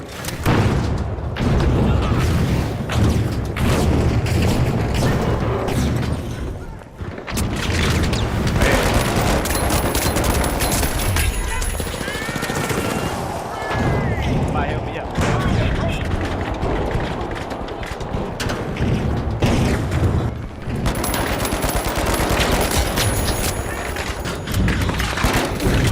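Gunfire rattles nonstop through a shooting video game, dense bursts and booms overlapping into a loud, continuous barrage with brief dips, voices talking over the fighting.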